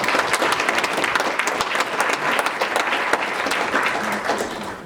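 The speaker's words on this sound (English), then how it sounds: "Deserves a round of applause." Sustained applause from an audience at a county event honoring the Westchester County executive, steady dense clapping for about five seconds with no speech over it.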